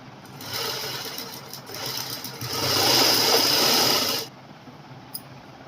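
A sewing machine runs steadily for about four seconds as it stitches a folded strip of fabric for a girl's co-ord set, with a brief lull midway and a small click once it stops.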